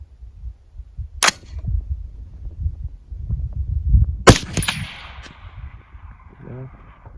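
A PSA Sabre-10A2 semi-automatic rifle fires two sharp, loud shots a few seconds apart outdoors on a long-range setup, each followed by a fading echo across the open ground, with low wind rumble in between.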